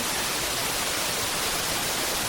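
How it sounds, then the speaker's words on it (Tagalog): Balagbag Falls in Real, Quezon, in the Sierra Madre, pours as a loud, constant, dense roar of rushing water, steady and unbroken throughout. "Ayan, napakaganda ng waterfalls na to."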